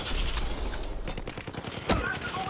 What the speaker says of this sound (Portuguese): Ó, já estamos atirando